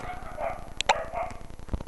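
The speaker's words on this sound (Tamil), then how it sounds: "நாய்க்குட்டி அது." A puppy gives a couple of short, high yapping barks, close by and fairly faint, set against a steady background hum with a few small knocks.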